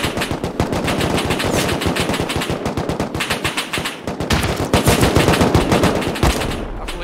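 Rapid bursts of automatic gunfire in the survival video game Rust, loud and sustained across the whole stretch with dense, fast repeating shots and no talking over it.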